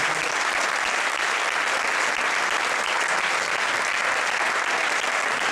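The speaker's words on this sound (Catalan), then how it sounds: "Un aplaudiment." Steady, loud applause from an awards-ceremony audience honoring a heritage restoration project for a Mallorca mill, continuous dense clapping with no voices over it.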